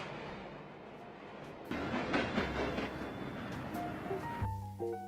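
Rumble and rattle of a New York City subway train on the 1 line, the steady roar swelling partway through as the cars run past, with a brief squeal and horn-like tones near the end.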